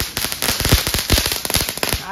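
A bidi bomb firecracker bursts during Diwali, giving a run of sharp, loud cracks and pops close by amid festive outdoor noise, with voices talking in the background.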